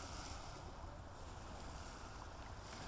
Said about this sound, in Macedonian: Ова е и последниот гумен чамец утрово